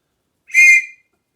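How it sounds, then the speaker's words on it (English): A father's whistle, once used in a school hall, gives one sharp, loud shrill blast of about half a second, alone in an otherwise silent moment. "I'll blow my father's whistle that he used in the school hall to wake me up."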